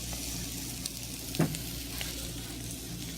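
French toast frying in a cast iron pan gives a steady, fairly quiet sizzle with one brief louder crackle near the middle, and no voices.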